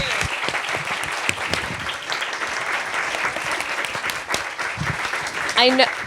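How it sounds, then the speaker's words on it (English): Sustained audience applause for three panelists at a talk on Paris dining, dense steady clapping throughout, with a brief voice near the end. "Can we have a big round of applause for these three,"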